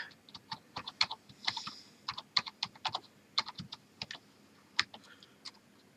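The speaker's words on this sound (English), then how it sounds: "Now I need to type the new password for this user" Password typed on a computer keyboard during an Ubuntu 20.04 setup, a close run of crisp key clicks in irregular bursts with short pauses.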